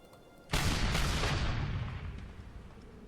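Artillery bombardment in the Civil War game Gettysburg: The Tide Turns opens with a sudden loud roar of massed cannon fire. A dense rumbling volley follows and slowly fades over a few seconds.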